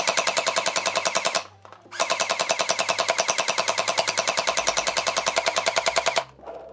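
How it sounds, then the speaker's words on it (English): A Nerf Pro Gel Blaster Mythic fires gel balls in two long, rapid bursts of fast, even, motorized clacking shots, each burst cut off sharply with a short pause between, loud and close with no talking. "So let's go ahead and shoot this thing and see how it goes."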